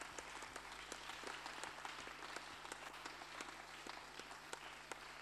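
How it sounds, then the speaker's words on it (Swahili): A church congregation applauds for Jesus Christ, steady many-handed clapping with sharp individual claps standing out, faint and distant throughout. "Makofi kwa Yesu Kristo."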